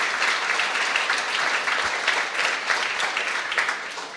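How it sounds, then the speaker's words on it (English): Sustained audience applause fills the space with a dense, steady wash of many hands clapping at a live event in the Argyle, holding strong throughout and tapering slightly at the end. "can we get a big round of applause as well for Sato?"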